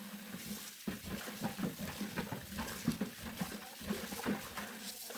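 Water from a cleared, previously clogged drain flows away with a soft, irregular patter and gurgle, fairly quiet and close, with no voices.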